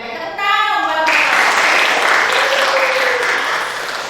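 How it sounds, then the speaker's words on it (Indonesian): Classroom audience claps for a presenter named Michael: a brief voice at the start gives way to a dense, loud wash of many hands clapping that holds steady and then eases slightly. "tepuk tangan buat Michael"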